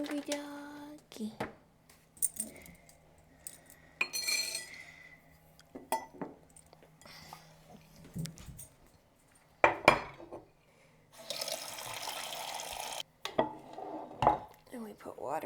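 Dishes and utensils clink and clatter in short bursts as kibble is scooped rattling into a dog's bowl, with a voice speaking briefly between the sounds.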